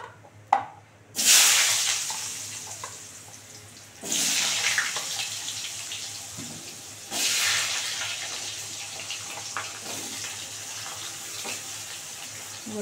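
Potatoes tipped into hot oil already tempered with bay leaves, for a Bengali-style fish curry, set off bursts of loud hissing sizzle that swell and slowly settle three times in a row.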